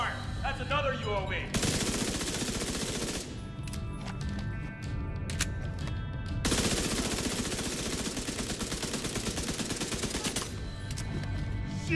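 Gunfire in The Division 2 in dense automatic bursts with rapid rattling shots, loud and close, broken by short pauses, with voices speaking in the background.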